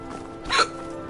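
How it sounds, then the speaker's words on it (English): A single sharp, close hiccup from a person, loud and brief, rising out of faint background sound. "Sorry for the hiccups, they've started."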